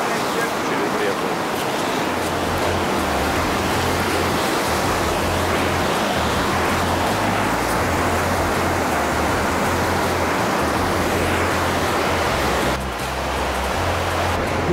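Steady broadband rush of the Ganges river flowing under a bridge in India, a constant loud roar with no clear pauses, water noise filling the scene throughout.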